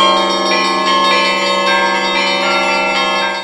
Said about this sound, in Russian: а сразу по окончании литургии зазвонили колокола.